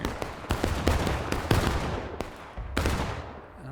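Muskets crack in ragged volleys from a firing line in the Civil War game War of Rights, a string of sharp overlapping shots with a few louder reports standing out close by.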